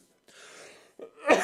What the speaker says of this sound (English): I'm coughing like that.